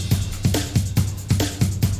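Epic orchestral drums stacked with main drums and percussion in desert-themed platformer game music, heavy low booms in a driving repeating rhythm with bright hits on top, loud and full.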